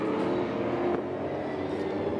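Audi, BMW and Mercedes touring race cars at the Hungaroring circuit during a 2012 Superstars Series race, heard as a continuous roar of engines held at high revs, loud and steady, with no speech.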